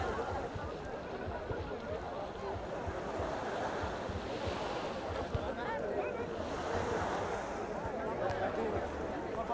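Surf washing steadily onto a busy Freedom Beach in Phuket, a constant broadband rush of waves with wind noise on the microphone and crowd murmur throughout.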